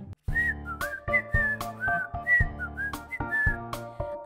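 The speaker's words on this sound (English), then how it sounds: "Did I hear someone whistling?" A bright whistled melody of short rising and falling notes repeats in a steady rhythm over a tonal musical backing, clear and up front with no talking.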